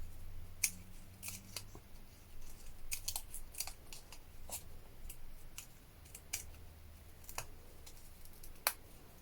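Scissors snip through paper for a bee-themed junk journal page, with irregular crisp cuts scattered close by in a quiet room, a brief low rumble near the start.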